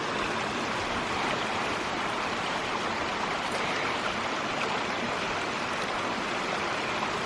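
Water rushes steadily through a ram pump's delivery pipe feeding an abandoned greenhouse, a continuous broadband hiss and gurgle at moderate level with no pauses.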